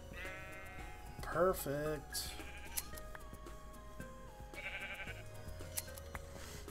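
Sheep bleating in the video game Minecraft, several short wavering bleats near the start over soft background music, with someone talking briefly.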